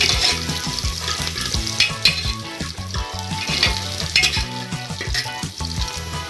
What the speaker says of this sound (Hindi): अब बारीक कटा हुआ लहसुन डाल रही हूँ थोड़ा, इसको भी थोड़ा चला लेंगे।